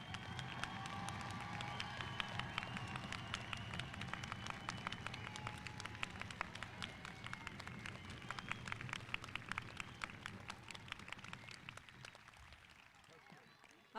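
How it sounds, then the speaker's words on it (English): A stadium crowd applauds a graduating class at a spring 2021 university commencement, producing a dense, steady wash of clapping that holds for about twelve seconds before easing off slightly at the end. "Now's your time to one more applause for this entire graduating class"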